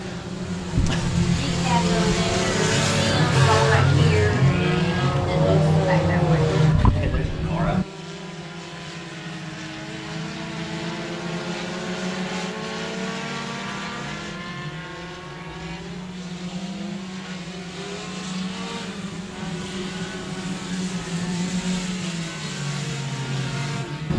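Four-cylinder class race cars roar around a speedway oval, a continuous loud droning engine whine rising and falling in pitch as they pass, with voices talking over it.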